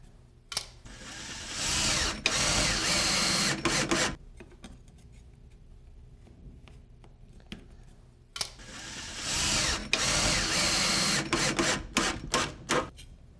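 A power driver sends screws through the nailers of a Slide Lok garage cabinet into a wall stud, heard as two sustained loud whirring drives several seconds long with a quieter pause of small clicks between them.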